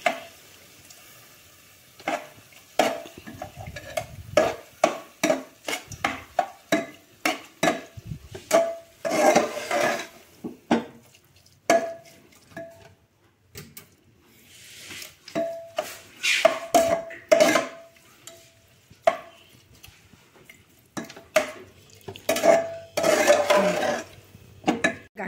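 A spoon stirs carrot halwa with milk in a metal pan, scraping and clinking in a quick irregular rhythm, close and clear, with brief pauses between bursts of stirring.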